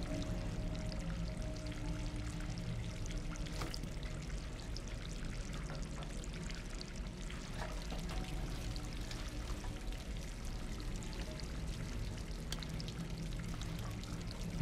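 In the video game Stray, water pours steadily to fill something, a constant, even rushing stream at moderate level lasting throughout with a few faint clicks, no talking.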